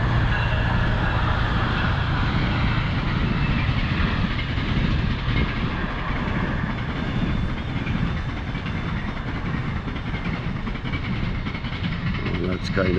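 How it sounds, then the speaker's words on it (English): A train rumbles past continuously, a broad steady roar with rattling wheels, as people talk beneath it. "Looks like we have a train coming here"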